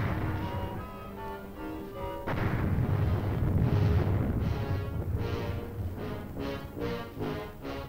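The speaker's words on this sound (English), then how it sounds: "Directing fire on enemy bunkers was their specialty." Artillery fires on enemy bunkers in Korea, a rumbling barrage of booms and blasts, loud and continuous with repeated sharp bursts toward the end, no voices.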